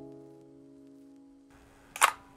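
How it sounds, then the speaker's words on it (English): Self-timer on a 35mm film camera with worn light seals, a steady electronic hum running for over a second before a single sharp, close shutter click. "so yeah, self-timer also works."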